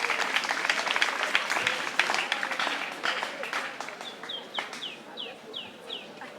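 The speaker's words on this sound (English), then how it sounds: "Clap for yourselves." Crowd clapping at a school's sixtieth anniversary celebration, a burst of loud applause that gradually thins and fades, with faint chirping bird or fowl calls emerging near the end.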